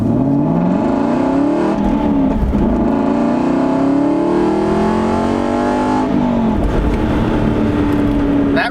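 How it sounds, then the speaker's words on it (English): A 2007 Aston Martin V8 Vantage with its 4.3-liter V8 and stock exhaust revving hard, loud and close, engine note climbing through several gears with brief dips between, continuous throughout without speech. "That right there is one of the best stock exhaust notes I have heard."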